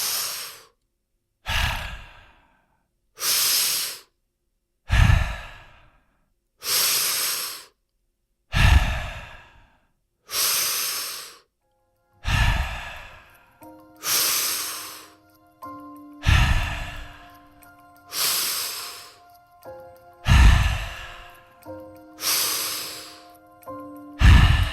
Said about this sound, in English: take 10 highly connected, highly conscious breaths